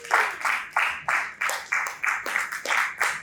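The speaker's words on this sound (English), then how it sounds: "Another round of applause for Mr. Daniel." Audience applause at the ILEAP summit in Port Harcourt, heard as a series of loud, distinct clapping bursts pulsing roughly every quarter to half second, close and rhythmic, with no talk over it.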